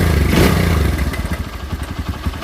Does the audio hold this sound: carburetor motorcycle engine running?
yes